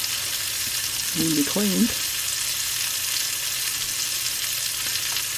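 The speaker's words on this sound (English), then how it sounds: "going to go ahead and throw the crab cakes in another pan there" Crab cakes frying in butter in a pan give a steady, close sizzle throughout, with a brief spoken remark partway in.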